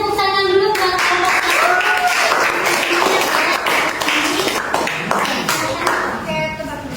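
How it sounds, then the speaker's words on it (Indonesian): Classmates clap for a group presenting in a school class, a busy patter of hand claps filling the room while children's voices talk and call out over it. "Kita beri tepuk tangan dulu buat"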